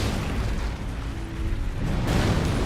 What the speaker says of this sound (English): So that's just like a big enough explosion.